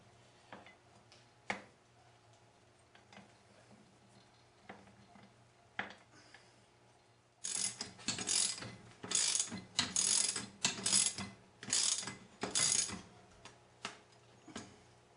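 Ratcheting clicks from tightening the strut nut by hand on a 2000 Mitsubishi Mirage during a strut service, starting as a few sparse ticks, then becoming a dense, louder run of rapid mechanical clicking and rattling in the second half.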